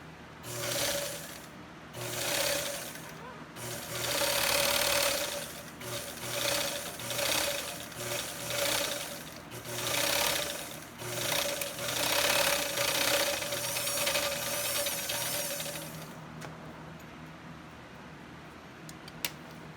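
An old-style flatbed sewing machine runs in bursts, its rapid mechanical needle chatter rising and falling as it starts and stops repeatedly, close and fairly loud, then goes quiet near the end.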